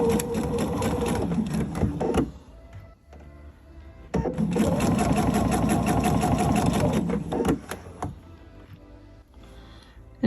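A sewing machine stitches a tree skirt along a baste-tape fold line in two long runs of fast, close, rhythmic rattling whir, with a quieter pause of low room noise between them.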